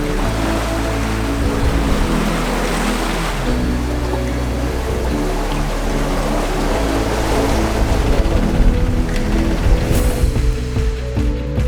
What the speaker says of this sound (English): We're just about to weigh anchor from Martinique, heading off for a little bit of a night sail.